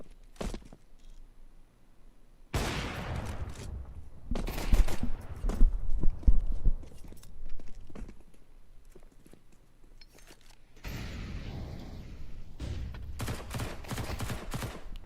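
Rapid bursts of pistol gunfire from a Counter-Strike match, loud and repeated in dense clusters with short pauses between volleys.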